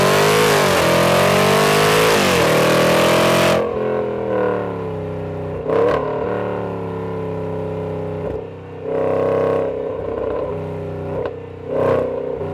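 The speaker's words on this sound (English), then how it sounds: "Now back to dynamic mode, loud exhaust, sport. Open the windows a little bit and let's make some noise!" A 2019 performance SUV, either an Alfa Romeo Stelvio Quadrifoglio or a Jaguar F-Pace SVR, accelerates hard in dynamic mode with a loud exhaust, one long rising pull followed by several shorter bursts of throttle over a lower engine drone.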